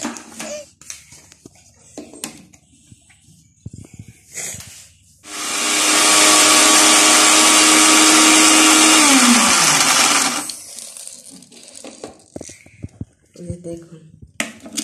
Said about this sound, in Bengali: এখন সবগুলো বিস্কিট আমি ব্লেন্ডার করে নেব